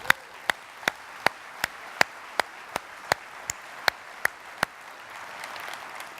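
Slow, evenly spaced sharp claps, about a dozen loud single hits, rhythmic with a faint broad crowd wash building at the end, honoring soldiers at a military general's speech to new arrivals.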